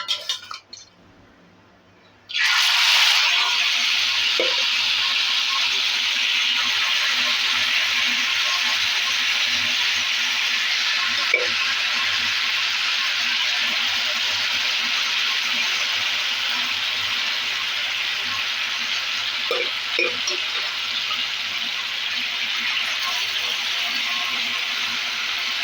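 Beef curry hits hot oil on a tawa and erupts into a loud, close sizzle after a brief quiet moment, then keeps up a steady frying hiss with occasional utensil clinks.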